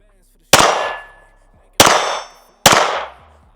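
Three sharp metallic clangs from .22 rounds striking a swinging steel target at an outdoor range, each ringing out and fading before the next, spaced over a few seconds with no talk.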